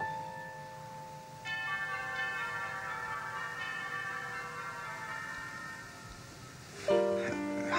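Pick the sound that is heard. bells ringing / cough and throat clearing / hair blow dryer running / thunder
bells ringing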